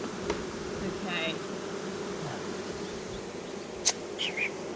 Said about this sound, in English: They're all buzzing around the camera.